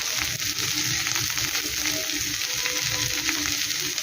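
Potatoes fry in a pan in a steady, dense sizzle that runs loud and unbroken throughout, with faint stirring underneath.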